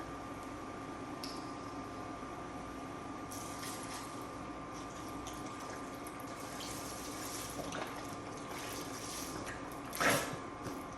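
Four cups of stock pour from a 32-ounce carton into a pot for pot roast, a steady liquid splashing and gurgling that runs through the whole stretch at close range, with a brief louder splash near the end.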